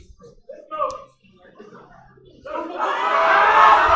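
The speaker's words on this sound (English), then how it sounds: "The crowd is really getting up for Steve." A crowd cheers at a men's deadlift event at the New Zealand national powerlifting championships, swelling into a loud, sustained roar after a few quieter moments of scattered voices.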